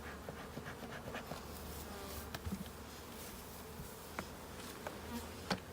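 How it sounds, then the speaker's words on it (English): Honey bees buzz steadily around a nucleus hive entrance, with individual insects whizzing close past now and then over a soft continuous drone; no voices. "we got bees really coming and going out of this one"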